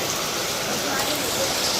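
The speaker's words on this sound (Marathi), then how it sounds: "मस्त पाऊस चालू आहे बघा" Steady rain falls outside a home during a monsoon downpour, a dense, even hiss of drops throughout with no voices.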